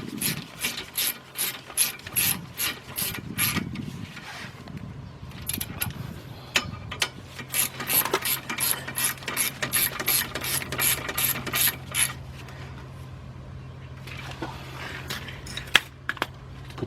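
A hand ratchet tightening brake bolts on a 2004 Volkswagen Beetle, heard as close, rapid runs of sharp clicking in bursts with brief pauses and some low metallic handling between them.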